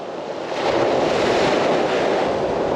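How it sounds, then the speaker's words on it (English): Sea waves crash steadily onto the Dorset shore by a fishing spot. The surf is loud, close and continuous, a broad roar of breaking water with no voices. "loads of waves crashing in there"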